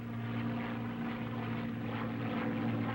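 A P-51 Mustang propeller fighter flies just after takeoff with gear and flaps up. Its engine drones in a steady, even hum with a strong low tone and a broad rushing wash, constant throughout.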